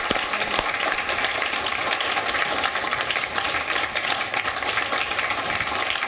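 Audience applause welcoming a guest poet at a birthday poetry gathering for PM Modi, a steady dense wash of clapping that holds at an even level throughout, with no voices standing out.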